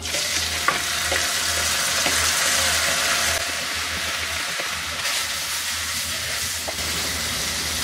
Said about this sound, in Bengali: এর মধ্যে আমি টমেটোগুলাকে দিয়ে দিব